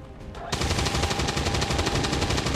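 Automatic weapon fire in the video game XCOM 2 erupts after a brief quiet lead-in, a loud, dense, rapid burst of machine-gun shots that hammers on without pause to the end.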